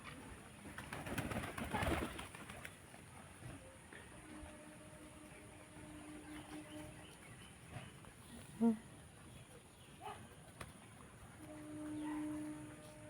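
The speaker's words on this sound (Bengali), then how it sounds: "খুব সুন্দর লাগছে একসাথে এতগুলো পায়রা" A flock of pigeons from a temple cooing softly at a distance, faint low calls over quiet background hum with a brief bump of noise midway.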